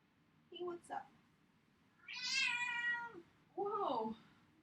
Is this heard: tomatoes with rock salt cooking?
no